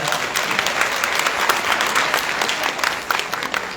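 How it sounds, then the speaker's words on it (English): An audience at a women's leadership panel session at Purdue claps steadily, a dense, even round of applause filling the room with no voices over it. "can we give them a round of applause as well"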